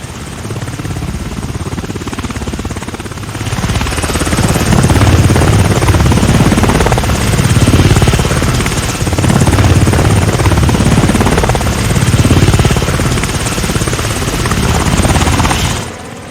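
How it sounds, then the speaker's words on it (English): A sheriff's helicopter passes overhead, a loud rotor roar with a rhythmic pulsing thump that swells after a few seconds and stays strong, rising and falling slightly as it moves. "here comes the sheriff's helicopter"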